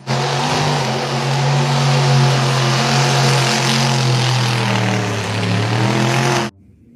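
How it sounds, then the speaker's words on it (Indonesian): A toy off-road car sound effect: a loud, droning engine hum with strong low harmonics that waver as it revs, sustained for over six seconds before an abrupt stop. "Mobil off-road."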